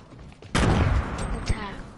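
A single loud, booming shotgun blast in a video game, hitting suddenly after a quiet moment and rolling off into a lingering echo, with a fainter thump following and voices chatting around it.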